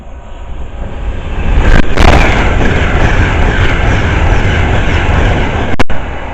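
An Avanti West Coast Class 390 train speeds through Harrow & Wealdstone station, a loud rising roar that swells and holds as it passes close by, with a sharp clunk near the end.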